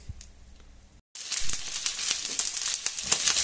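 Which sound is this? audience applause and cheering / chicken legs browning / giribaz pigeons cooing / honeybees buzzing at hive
chicken legs browning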